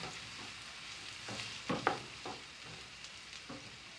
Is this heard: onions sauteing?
yes